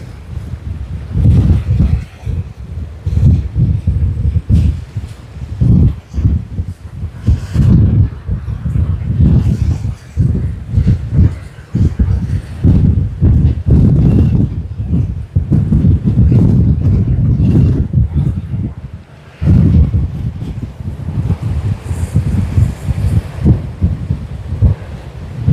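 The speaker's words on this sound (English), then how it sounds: "We are having a super windy day" Strong gusty wind at Sydney Airport near Botany Bay buffets the microphone in loud, rough roaring bursts that rise and drop constantly for the whole stretch, with only a brief lull near the end.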